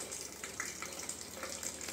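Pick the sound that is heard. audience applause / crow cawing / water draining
water draining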